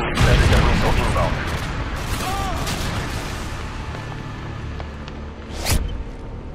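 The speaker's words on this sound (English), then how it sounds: "Friendly Predator missile inbound." Predator missile strike on the Terminal map in Modern Warfare 2: rumbling blasts and scattered gunfire fill the scene, fading, then a sharp loud burst hits near the end, with voices over the combat.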